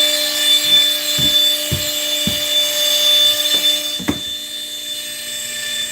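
A CNC router cuts wood inside an enclosure, a steady high whine with a low hum beneath and several sharp bursts as the bit bites into the wood, no talking.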